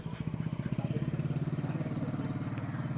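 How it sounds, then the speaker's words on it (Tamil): A motor vehicle engine, likely a motorcycle, runs close by with a steady, throbbing putter that holds at a constant level for about three seconds, with no talk over it. "வண்டி வருது பாரு"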